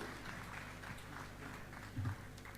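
Audience applause welcoming a speaker at a literary celebration in Dubai, a steady, fairly soft wash of clapping with a faint tonal hum beneath and a brief louder swell near the end.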